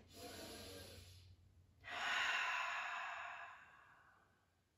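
Slow, deep breaths during a neck-stretching yoga session: a soft exhale that fades, a brief pause, then a fuller, louder breath that tapers off gradually, close and alone without talk.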